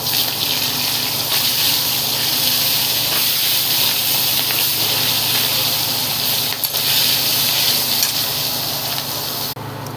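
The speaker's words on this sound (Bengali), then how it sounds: "মাংসের আলু ভাজছি বন্ধুরা।" Potatoes for a meat curry frying in hot oil, a loud, steady broadband hiss and sizzle that runs unbroken for the whole stretch, close to the pan, with no talking.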